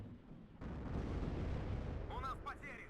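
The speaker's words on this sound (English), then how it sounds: "just taking some fire from these BMP2s." BMP-2 gunfire in the game Warno: a sudden loud sustained burst of firing and rumble that cuts in abruptly and holds steady, with brief whistling or whining tones near the end.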